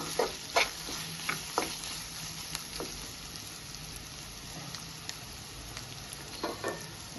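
Ginger frying in a pan for a carrot and lentil curry makes a soft, continuous sizzle, broken by light stirring scrapes and taps at irregular intervals, with no voices.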